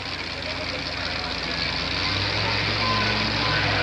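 A monster truck at a monster truck contest reverses and turns around, with a loud, steady engine roar and a deeper rumble building partway through, heard up close over a noisy arena.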